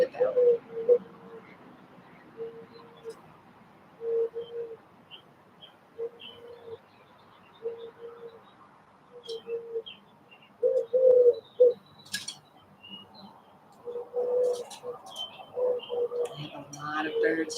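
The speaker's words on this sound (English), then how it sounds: "I have a lot of birds chirping" Birds chirping and softly cooing outdoors in short, evenly spaced phrases, fairly faint, with a calm voice speaking at times over the calls.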